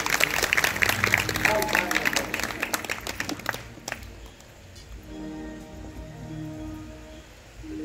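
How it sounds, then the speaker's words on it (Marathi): Audience applause and clapping for a devotional bhajan at a Shiv Mahapuran katha gathering, a dense rain-like patter of many hands for about four seconds, then fading into low murmur. "टाळ्या वाजवा ना त्यांच्यासाठी"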